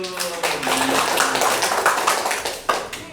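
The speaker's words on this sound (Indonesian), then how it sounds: "Ayo coba tepuk tangan buat yang mau maju." Classroom clapping from students welcoming a pupil coming forward, a steady patter of many hands filling the room with voices mixed in.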